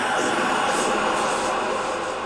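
A vocal tail soaked in fully wet reverb with a 4.3-second decay forms a huge, dense wash of diffuse sound that hangs at a steady loudness throughout.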